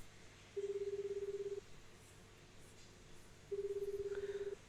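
A steady telephone dial tone from a Higurashi game's public payphone, heard as two separate sustained pulsing beeps, each about a second long, separated by a quiet gap, clear and alone with no talking.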